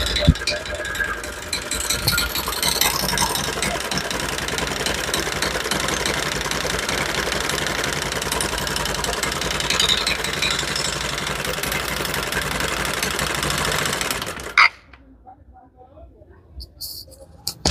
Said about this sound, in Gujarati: અટાણે તો આમાં એન્જિનમાં ડાકલા વાગે